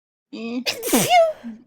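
A single sharp sneeze bursts out close by with a quick intake of breath before it and a brief voiced sound after.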